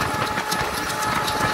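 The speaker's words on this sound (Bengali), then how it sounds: "ট্রেন প্রচণ্ড আকারে গতি তুলতে থাকে 100+ গতিতে।" A Mongla commuter train running at over 100 km/h, a loud steady roar with a fast rhythmic clatter of wheels over rail joints, heard from on board.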